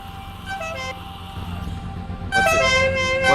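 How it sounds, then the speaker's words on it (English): Car horns honk one after another in a Porsche Supercup racing video game at Thruxton, several overlapping tonal blasts with a louder cluster joining partway through, sounding fairly close. "the drivers all honk their horns in succession"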